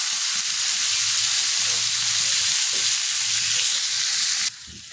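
Food frying in a pan with salt and turmeric is stirred, a loud, even hiss of sizzling oil with soft stirring movements underneath that cuts off sharply just before the end.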